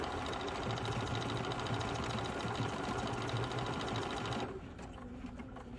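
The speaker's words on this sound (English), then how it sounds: "And now the machine's going to sew out those 3 little flowers." A Bernina 485 sewing machine stitches out three small flower designs with a steady, fast, close mechanical whirring and chattering hum that runs continuously, then drops to a quieter idle near the end.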